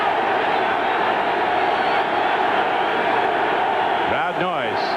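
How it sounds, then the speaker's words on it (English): Roaring football stadium crowd at a 1991 Cleveland Browns at Pittsburgh Steelers game on a 4th-and-1 play, a loud sustained wall of noise with rising shouts and whoops near the end. "Crowd noise is intense despite all the no-shows"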